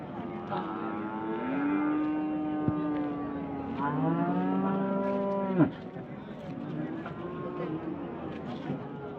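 A native-breed cow that has just calved moos in long, deep calls at the Morepalayam cattle market in Namakkal, loud and close, with other cattle and a faint murmur of the market behind.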